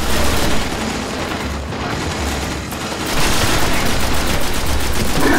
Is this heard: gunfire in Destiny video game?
yes